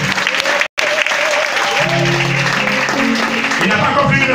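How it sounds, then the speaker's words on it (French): Loud crowd applause and cheering at a spiritual church gathering, sustained clapping with raised voices throughout, briefly cut off for an instant near the start. "On va acclamer le puissant, s'il te plaît."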